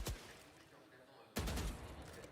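Gunfire from a Valorant match cracks in two bursts, a single sharp shot followed after a pause by a denser volley, under the noise of a live esports broadcast.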